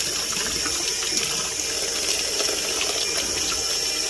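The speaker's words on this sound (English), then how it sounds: "you just want to get just like a little bit of a pump to get all the water inside the hair" Water squeezed and pumped out of wet, freshly dyed hair: a steady gushing, dripping wash of liquid, close and continuous, with no voices.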